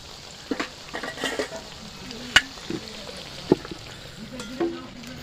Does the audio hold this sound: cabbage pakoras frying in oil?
yes